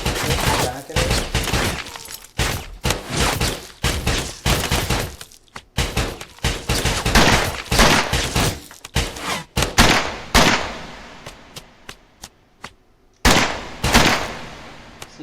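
Gunfire in a VR shooter game comes in rapid bursts of sharp, loud shots with breaking-glass clatter, separated by brief pauses and ending with a few single shots.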